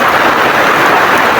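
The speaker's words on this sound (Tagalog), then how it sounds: "Ang lakas pa ng ulan mga tol." Heavy rain pours steadily at a campsite, a dense, even hiss of drops that fills the short stretch with no pauses and no voices.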